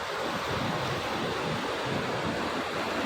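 Ocean surf roars in a constant, dense wash of breaking waves at Lhok Aman beach in Meukek, South Aceh, with wind buffeting the microphone throughout.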